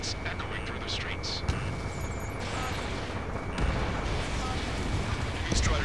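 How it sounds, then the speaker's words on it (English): Distant bursts of gunfire and booming blasts over a low roar of jets in the video game Ace Combat 7, with a voice talking over the din throughout. "Gunfire and the roar of jets echoing through the streets."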